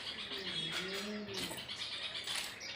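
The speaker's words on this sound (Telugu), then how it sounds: "చూడండి ఒకసారి సౌండ్ చూడండి, ఎట్లా సౌండ్ చేస్తున్నాయో, ఎంత బాగా వస్తున్నాయో సౌండ్" Birds nesting in a money plant at a house coo softly and chirp in short, overlapping calls, faint against a quiet indoor background with no speech.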